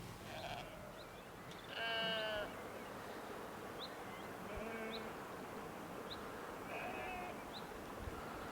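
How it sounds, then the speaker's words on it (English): Sheep bleating outdoors by a reservoir and lake, a few drawn-out nasal calls at moderate distance over a steady bed of buzzing insects and wind. "Fairly tame sheep."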